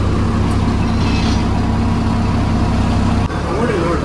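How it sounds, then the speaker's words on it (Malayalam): A KSRTC Super Deluxe air bus engine runs with a loud, steady diesel drone and low rumble that briefly dips near the end before continuing, with a voice faintly present. "നമ്മുടെ ബസ് സ്റ്റാർട്ട് ചെയ്യാൻ വേണ്ടി പോണ കേട്ടോ."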